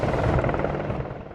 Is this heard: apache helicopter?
yes